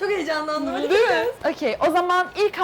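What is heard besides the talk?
No distinct noise like a dog, phone or traffic.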